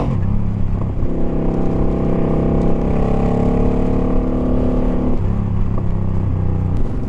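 A motorbike fitted with an automatic clutch conversion revs steadily through a launch attempt, its engine droning loud and continuous with a rising pitch, then briefly dropping near five seconds before picking back up.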